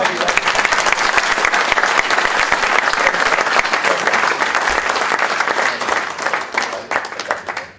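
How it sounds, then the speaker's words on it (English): An audience applauds David, loud and close for the whole stretch, a dense, steady roar of many hands clapping at once with no talk over it. "Let's give David a round of applause."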